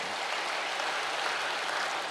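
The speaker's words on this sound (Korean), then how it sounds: "우리 한번 박수로 그 형제 격려를 해 주시기를 바랍니다." A church congregation applauds in a steady, even wash of clapping that holds at a constant level throughout, with no talk over it.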